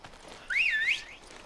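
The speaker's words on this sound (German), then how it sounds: "pfeif doch mal, damit ich weiß, wo du bist" A single clear, bright whistle in Resident Evil 5 sweeps up and then down for about half a second, loud over faint game background noise.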